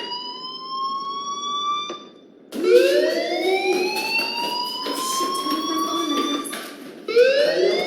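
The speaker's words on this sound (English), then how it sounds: "do you hear that fire alarm?" Fire alarm in the video game Life is Strange, a loud electronic whooping wail that sweeps upward repeatedly, cutting out briefly and restarting, with no talk over it.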